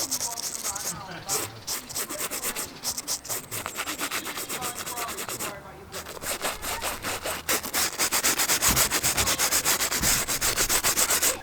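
Brush spreading seam sealer along the fabric seams of a French F2 army two-man tent: steady, close scratchy rubbing strokes, continuous and rhythmic, briefly pausing then growing slightly louder toward the end, with no talking.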